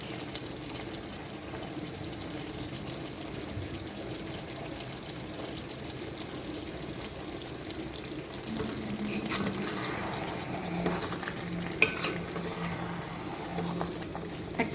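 Potato and meat curry simmering in a pan, a soft steady bubbling sizzle with faint scraping as it is stirred, growing slightly busier toward the end with a few light clinks.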